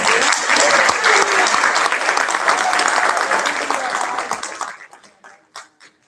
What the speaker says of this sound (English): Give that for some applause